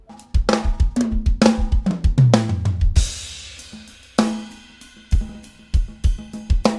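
A full drum kit plays a groove with punchy snare hits, kick and a tom fill leading into a crashing cymbal, loud and close.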